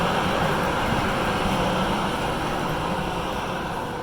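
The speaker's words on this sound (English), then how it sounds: "that's the train." A train rumbles past in a city transit setting, a loud steady broadband roar with a constant low drone that holds for the whole stretch without talk.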